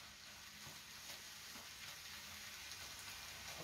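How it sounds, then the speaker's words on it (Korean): Rice stir-fried over high heat for Korean BBQ-restaurant-style fried rice, giving a soft continuous sizzle with faint stirring scrapes and no talk. "센 불에서 볶아야지 고깃집에서 먹는 맛 비슷하게 나요."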